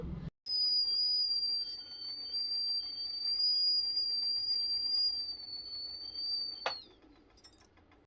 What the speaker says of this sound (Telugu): కుక్కర్ కాబట్టి ఈజీగానే విజిల్ వచ్చేస్తుంది